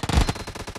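Short rapid burst of automatic gunfire in PUBG Mobile gun game in a hangar map, a fast string of loud, close shots lasting under a second.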